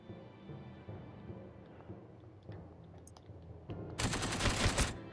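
Enemy soldiers fire in the war video game The Thin Red Line of Warsaw, with scattered shots and bursts that end in a loud, dense volley of gunfire.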